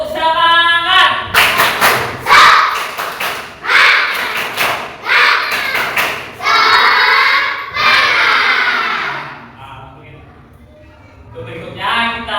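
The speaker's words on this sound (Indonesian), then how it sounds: "Mari kita tepuk semangat dulu." A school class performs a tepuk semangat chant, with bursts of children's rhythmic group clapping and shouted chanting in a classroom, loud and repeated in short patterned phrases, ending in a quieter pause.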